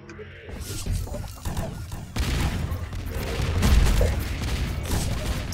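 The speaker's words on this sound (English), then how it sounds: "You guys are shooting me." Gunfire in a competitive video game match, a dense run of rapid shots and crashes from 0.5 seconds onward, loud and continuous with bursts building toward the middle.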